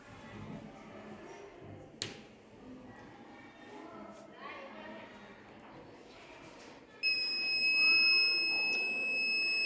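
Buzzer on an Arduino-based IoT flood monitoring system set off by a water level sensor, a steady electronic tone that starts partway through and continues loudly after some talking and handling noise.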